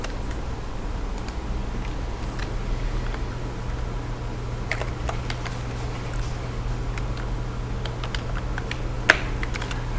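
Keys on a computer keyboard are typed in quick, light, irregular taps, close and fairly quiet over a low steady hum, with no talking.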